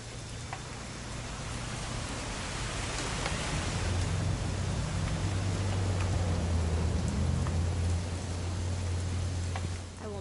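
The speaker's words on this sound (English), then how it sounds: "It's gonna rain the whole weekend, isn't it?" Steady rain falls in the video game What Remains of Edith Finch, a continuous broadband hiss with scattered drop ticks and a low droning hum underneath, holding at an even level throughout with no voices.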